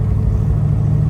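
A built Pontiac 400 V8 with Kauffman aluminum heads in a 1968 Firebird convertible, running as a loud, steady low rumble throughout, with no talk over it.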